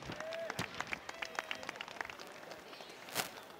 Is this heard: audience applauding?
yes